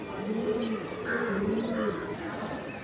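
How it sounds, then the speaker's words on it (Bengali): Kalibaga pigeons at a pigeon market cooing in repeated low, throaty phrases, close by and fairly steady, with a faint background hum. "কালীবাগা কবুতর"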